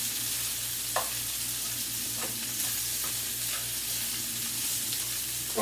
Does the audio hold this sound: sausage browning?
yes